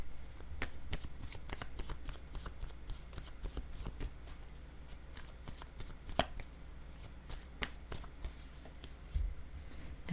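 Word cards are shuffled continuously in quick, papery riffles and flicks. The rustling is soft and close, with no voices over it.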